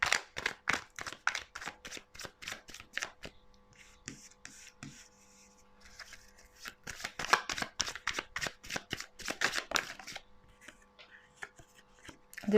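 Tarot cards being shuffled by hand in quick crisp bursts of riffling and slapping, pausing briefly in the middle before resuming, close and fairly quiet.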